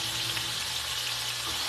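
Oil frying in a pan while patty melts are cooked, a continuous dense sizzle with an even hiss, close and steady throughout.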